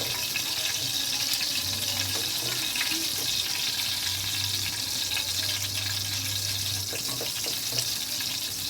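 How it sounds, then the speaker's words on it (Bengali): Cardamom pods tempering in hot oil in a wok, a steady, dense sizzle and crackle that holds evenly throughout, close and moderately loud with no voices. "2টো এলাচ একটু তেলের মধ্যে দিয়ে একটু ফোড়ন দিয়ে নেব।"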